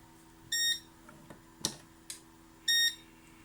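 A VANPA 600W portable power station gives its low-battery warning, two short electronic beeps spaced about two seconds apart, with small clicks and handling noises in between.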